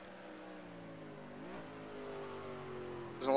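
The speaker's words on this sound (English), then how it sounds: "Here comes the pace truck." A pace truck circles the Road America road course during a truck series race, its engine droning steadily with rising harmonics and a brief rev change, growing louder toward the end as it nears.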